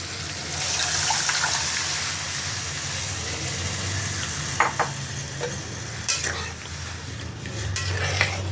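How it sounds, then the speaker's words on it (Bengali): Dal poured into hot spiced oil in a home kitchen pot, giving a steady close sizzle and bubbling with scattered clinks of a spoon or utensil against the pan, no voices. "এখন আমি ডালটা এর মধ্যে ঢেলে দেবো"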